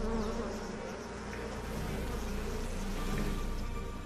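Dense, steady buzzing of a bee swarm around an old, centuries-old farm beehive apiary in France, a continuous insect drone filling the space with no voices.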